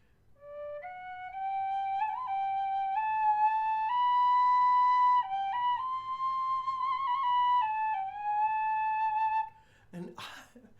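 A Shush Pro High D tin whistle plays a clear, bright melody of sustained, stepwise notes with slight bends, heard alone and fairly loud for about nine seconds before a brief rustle.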